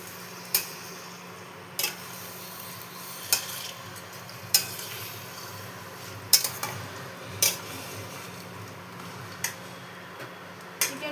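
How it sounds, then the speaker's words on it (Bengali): Chicken is sautéed and stirred in spice masala with fried potato in a pan, a quiet steady sizzle broken by sharp spatula scrapes and taps that recur every second or so, with no talking. "চিকেনটা দিয়ে মশলার সাথে ভালো মতো কষাবো"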